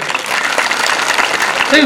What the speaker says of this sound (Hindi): ये दोनों के लिए जोरदार तालियां बजाइए